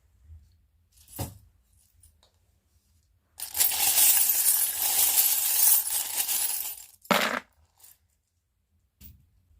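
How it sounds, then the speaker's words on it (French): Small divination charms are cast onto a tray in a burst of bright clinking and rattling, with a couple of sharp clicks before and a quick clatter after as they settle; no talking. "Et je vais tirer les charms."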